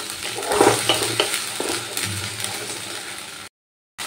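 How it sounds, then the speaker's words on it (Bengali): Ginger paste sautéing in a pan with onion and tomato paste, a steady close sizzle with scraping stirs of a spoon, continuous and fairly loud before cutting off abruptly. "এবার আদা বাটাটা দিয়েও কিন্তু ভালো করে কষিয়ে নিতে হবে।"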